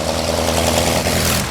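Aero engine fitted to a 1913 Monarch car roars loud and close, a dense, rough, steady mechanical drone with heavy low rumble and a broad harsh upper wash, running continuously throughout.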